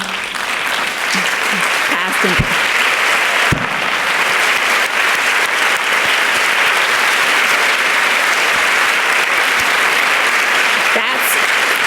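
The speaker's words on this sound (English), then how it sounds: "I would like all of you to stand so that I may applaud you" Sustained audience applause at a dance awards ceremony fills the room, dense and loud throughout, with a speaker's voice briefly heard over it.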